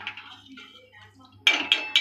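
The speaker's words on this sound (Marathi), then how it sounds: "आता हे ढवळून घेऊया." A spoon stirs Malvani-style misal curry in a pot; a voice talks softly at first, then three sharp metallic clanks ring out against the pot in quick succession.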